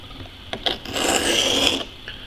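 Knife blade drawn across a sharpener at a steep angle, giving two short scrapes followed by one longer, loud, close rasping stroke.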